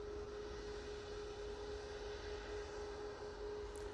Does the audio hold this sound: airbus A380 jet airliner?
yes